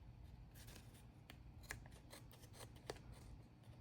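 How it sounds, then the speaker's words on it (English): Scissors snipping paper for a craft tag, quiet close cuts in a loose irregular series of short snips with no talking. "We're going to cut the top and go the same way it was."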